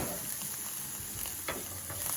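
Turmeric fries in a pan with a steady, soft sizzle, the occasional stir scraping through, close and low in level.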